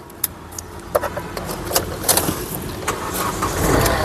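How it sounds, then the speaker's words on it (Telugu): A 2014 Hyundai Fluidic Verna SX starts on a single crank: a few sharp key and switch clicks come first, then the engine catches and its hum swells near the end. "సింగిల్ సెల్ఫ్లో కార్ స్టార్ట్ అవుతుంది"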